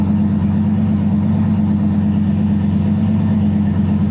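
A 5.3 LS V8 swapped into a Nissan 240SX runs steadily close by, giving a deep, even, throbbing rumble with no change in pitch and no talking.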